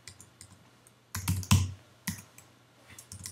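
Keys clicking on a computer keyboard, a short cluster of close, crisp taps with a few louder strokes between quieter ones.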